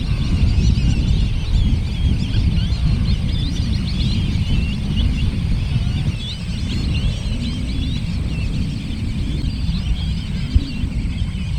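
A flock of black-bellied whistling ducks, tame and calm, calls and chatters steadily over a continuous low rumble from a car rolling past at a Louisiana winter birding spot.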